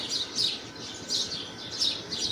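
Small birds chirp near a nest holding chicks, bright high tweets arriving in short bursts about every three-quarters of a second, fairly close and clear against quiet surroundings.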